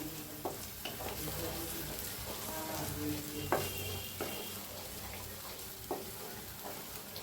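Turmeric and masala roasting in a pan with onion paste, giving a steady close sizzle with intermittent scraping and stirring clicks and no talking.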